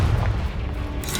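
A Confringo spell explosion from Hogwarts Legacy lands as a heavy, booming blast that rumbles loudly through the low end, with a brighter burst near the end.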